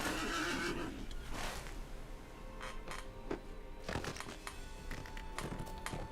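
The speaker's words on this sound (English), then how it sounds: "I am going to take our Rohan steed, see if we can get there quicker." A Rohan steed in the game Lord of the Rings Online whinnies loudly near the start, with further horse snorts and clip-clop bursts scattered over a steady ambient game background.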